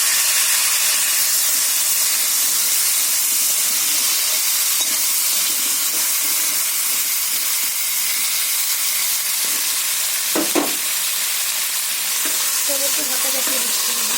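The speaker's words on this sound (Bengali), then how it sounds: "আমি কেটে রাখা আলুটা ভেজে নেব।" Cut potatoes frying in oil in a home kitchen, a steady loud hissing sizzle that runs throughout, with a brief clatter of a utensil midway and faint bubbling near the end.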